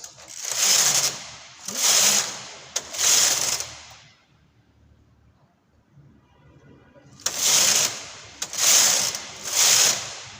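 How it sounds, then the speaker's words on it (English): A domestic knitting machine knitting a punch card design makes loud, rhythmic rasping mechanical sweeps as the carriage passes. Three close passes come first, then a quiet pause, then three more. "Now my card will be moving as I knit."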